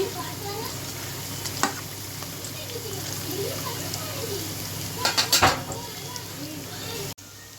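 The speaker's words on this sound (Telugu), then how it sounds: "ఇది పచ్చివాసన పోయే వరకు ఫ్రై చేసుకుంటానండి" Ginger garlic paste fries in a pan on a home stove, making a steady close sizzle with occasional spoon scrapes and a brief clatter near the end.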